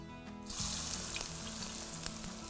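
Whole spices such as bay leaf and cinnamon hit hot ghee for chicken kabsa pulao, setting off a sudden loud sizzle that continues steadily, with a low background hum and no talking.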